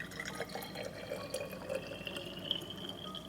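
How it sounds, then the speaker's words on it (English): Warm water runs from a tap into a reusable plastic spray bottle, a steady close splashing and trickling stream with a faintly rising pitch as the bottle fills, no voices present. "Fill your Forever bottle with warm water."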